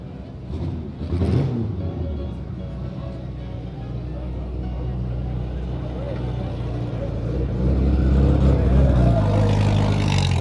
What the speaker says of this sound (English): This is a Buick Racer.